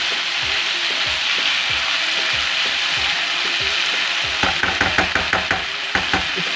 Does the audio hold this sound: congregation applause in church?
no